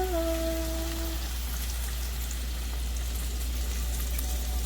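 Sauce poured into a hot pan of stew chicken, raising a loud, even hiss of sizzling that holds steady without a break.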